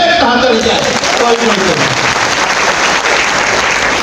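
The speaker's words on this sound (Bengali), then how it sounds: "জোরে একটা হাততালি চাই।" A crowd at a health talk breaks into loud, dense applause that fills the room as a steady roar of many hands for several seconds.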